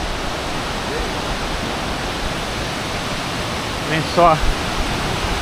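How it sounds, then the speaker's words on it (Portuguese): Steady broadband roar of Santa Bárbara waterfall in Chapada das Mesas, heard up close as a constant wash throughout, with a brief spoken phrase near the end. "Essa aqui é a cachoeira de Santa Bárbara."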